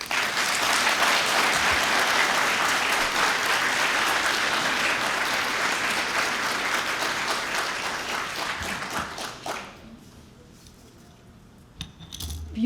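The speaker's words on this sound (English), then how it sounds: "Let's give her another round of applause." A large audience at a city address claps in sustained, dense applause that holds loud for several seconds, then thins and fades out.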